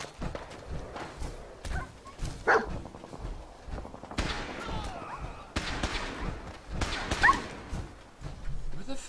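A dog barks and yips in Fallout 4 amid game clatter and scattered noises, several short, sharp bursts at moderate loudness across the stretch, with talk nearby.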